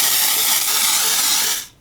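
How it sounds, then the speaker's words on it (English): Fake tan sprayed onto the chest and neck in a steady, close, broadband hiss that holds evenly for well over a second and a half before cutting off abruptly. "We're gonna spray it on the chest and neck first."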